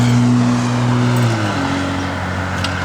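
A 1966 Pontiac LeMans with an LS1 engine runs with a steady, loud low rumble, its idle tone shifting partway through, close by, with no talk over it.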